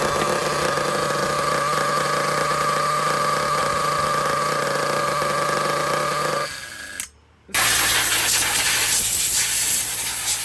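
A Dynamite 28 nitro engine in a used Losi 8ight 1/8 scale RC truggy runs with a loud, steady high-pitched buzz, cuts out briefly after about seven seconds, then roars back to life, no talk.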